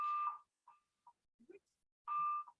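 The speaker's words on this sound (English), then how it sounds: "we're going to step out until this fire alarm or this alarm goes off" A fire alarm sounds inside a town board meeting room, giving two long loud electronic tones about two seconds apart with a few short faint blips between them.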